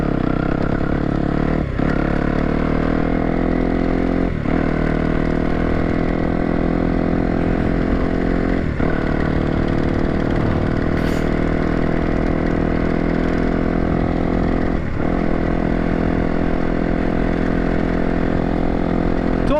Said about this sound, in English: I had it on the high idle, the hot start for starting it up and just so it would warm up.